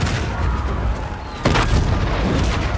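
ATIS cannons firing in the Call of Duty Infinite Warfare campaign: a loud dense battle rumble with one sharp heavy boom near the middle, its blast ringing out over continuous combat noise.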